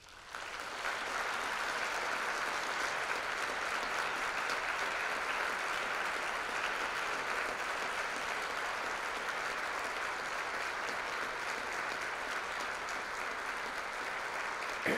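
Lecture audience gives sustained applause at the close of a global lecture series talk, a dense, even roar of many hands clapping at steady volume from start to finish.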